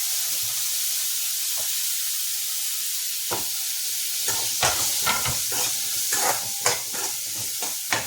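Peeled potatoes frying with onions in a pan, giving a steady close sizzle and hiss, with a series of stirring scrapes and taps growing more frequent toward the end.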